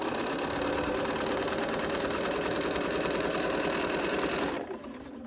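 A sewing machine runs steadily at speed while chain piecing quilt strips, a fast, even mechanical whir with rapid stitching ticks that cuts off near the end.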